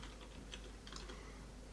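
Keys clack in a quick, light run on a computer keyboard as a terminal command is typed, fairly quiet and close, with no talking.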